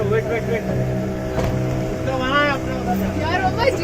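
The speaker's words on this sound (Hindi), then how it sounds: "यहाँ पे बोट वगैरह चलाने भी मिल गया है" A motorboat driven on a lake at Ooty, its steady engine drone running throughout, close and fairly loud, with people talking over it.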